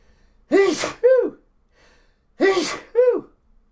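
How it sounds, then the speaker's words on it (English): Two loud sneezes, each with a sharp intake before the burst, spaced about two seconds apart with near silence between. "I had to sneeze so much I knocked the screen right off the screen."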